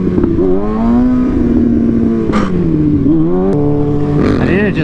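A stunt motorcycle's engine runs steadily and loudly, its pitch rising and dipping through a few revs with a slightly rough, rattly edge and no talk over it.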